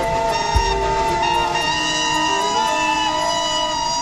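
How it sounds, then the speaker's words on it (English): A chorus of steam engine whistles from locomotives large and small sounds together, with overlapping sustained tones blaring loudly and continuously alongside a brief low thump. "This was the signal for a chorus of whistles from engines large and small."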